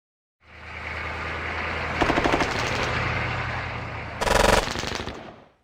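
Automatic gunfire rattles in the Squad Battles Grenada war game, a steady loud roar of shooting broken by two harsher, louder bursts, with no talking.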